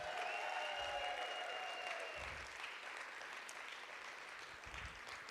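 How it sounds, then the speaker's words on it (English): Audience applause at the close of a lecture in a downtown lecture series, steady sustained clapping from a large room of listeners that gradually thins slightly, with no talking over it. "one more round of applause"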